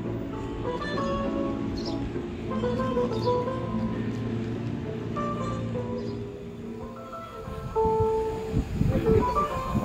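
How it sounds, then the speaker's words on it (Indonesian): A CC 201 diesel locomotive idles at Bogor railway station with a steady low rumble, joined by faint squeals and clanks. A louder burst of mechanical noise comes near the end. "Oh ya, itu dia lokomotifnya."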